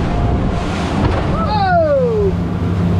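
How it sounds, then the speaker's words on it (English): Wind roars across the microphone on a fishing boat off Key West in two-to-three-foot seas, a steady close rush of air and water with a brief high whistle or squeal sliding downward partway through. "we hit a little bit of wind"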